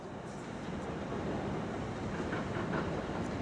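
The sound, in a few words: South Western Railway train at station platform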